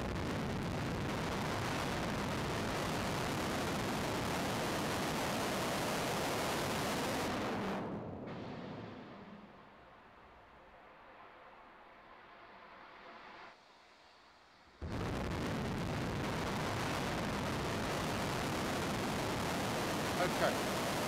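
Rocket launch with no thrust deflector, exhaust blasting the concrete beneath the low-standing vehicle: a loud, dense broadband roar that stays steady, drops to a muffled rumble for several seconds, then comes back at full force.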